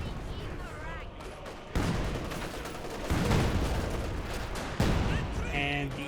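A PTRS anti-tank rifle fires in Company of Heroes 2 with a few heavy, booming shots spaced apart among the ongoing battle noise. A commentator talks throughout.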